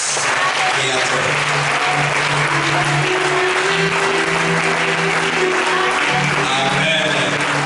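A church congregation applauds steadily and loudly through a worship service, the clapping dense and sustained with voices and a held tone mixed underneath.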